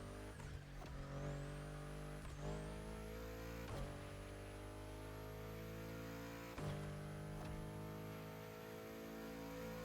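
A Bugatti engine drones steadily with a layered, humming tone, pitch climbing and dropping sharply at a few gear changes, sustained and loud throughout.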